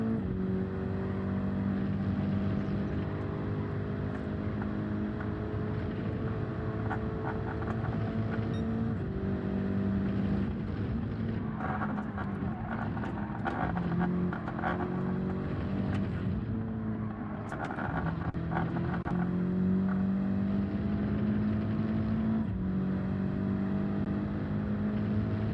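Race car engine in Gran Turismo 7 held at steady high revs, with harmonics that climb and shift through gear changes over a continuous, loud drone lasting the whole stretch, no talk over it.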